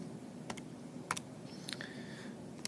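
Sparse calculator keypad presses as an equation is typed on a graphing calculator, a few quiet clicks spaced apart, with some in a quick double-tap pattern. A faint electronic whine runs underneath.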